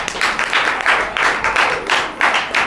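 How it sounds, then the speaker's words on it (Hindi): A church congregation at a Hindi preaching session claps together in a steady rhythmic beat, each burst of applause close and fairly loud, repeating about three times a second. "इसके लिए तालियां बजाओ"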